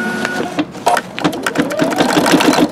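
A Brother ULT2003D embroidery machine stitches a design onto a towel, giving a loud, close, rapid mechanical chatter that starts up and settles into a steady rhythm.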